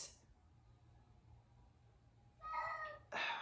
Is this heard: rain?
no